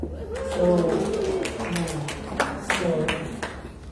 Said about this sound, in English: From time to time, you will be seeing a lot of birds flying behind you.